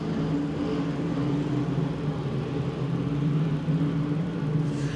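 Race cars roar side by side on an oval track in a steady, loud engine drone with a low rumble that holds throughout, broad and slightly distant as the pack runs together.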